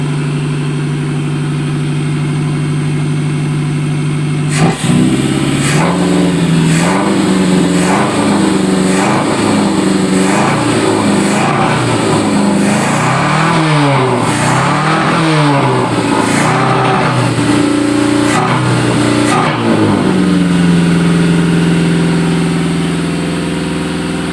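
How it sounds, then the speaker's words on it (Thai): A car engine fitted with a motorcycle carburetor starts from idle and is revved repeatedly, loud and close, with rising and falling surges for about fifteen seconds before settling back to a steady idle. "บางคนว่า อาใช้แล้วมันเร่งได้ไหม เดี๋ยวผมจะเร่งให้ดูครับ"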